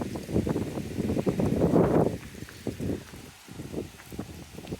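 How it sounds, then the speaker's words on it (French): Steady wind gusts buffet the microphone outdoors in a large parking lot at a camper-van rest area, a low rumbling roar that swells and fades, loudest around the middle. "Oui, mais il y a du vent quand même."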